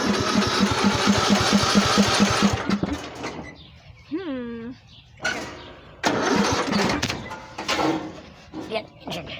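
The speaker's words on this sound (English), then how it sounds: "Start this lawnmower." A lawnmower engine cranks with a rapid rhythmic chugging, then falls silent, is pulled again and sputters in short bursts, with a voice speaking briefly between attempts.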